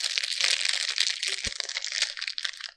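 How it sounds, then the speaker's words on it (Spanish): A coyota pastry wrapper crinkles near the microphone, a continuous crisp rustling with one soft thump partway through. "Ese es el sonido de la envoltura de una coyota que me comí."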